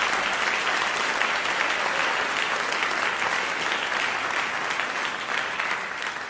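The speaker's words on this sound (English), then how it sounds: "I just want to actually invite one more round of applause to Bob Rosenkranz for making this all possib" Audience applause at a debate event, a thick, continuous roar of clapping from a large hall crowd, loud and steady for the whole stretch with no talk over it.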